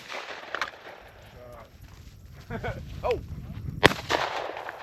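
A single loud, sharp shotgun blast cracks out near the end during a family dove hunt, with faint bird calls and brief voices around it.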